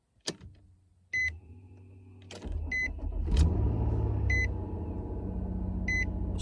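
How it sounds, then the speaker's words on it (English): A Nissan Maxima with a fresh battery cranks briefly and fires up, then settles into a steady idle close by, with a few high chime beeps repeating over the running engine. "we've got the battery in the Maxima. Go ahead and see if she cranks up for us today"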